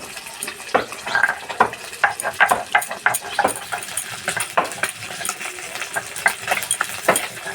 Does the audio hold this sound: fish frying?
yes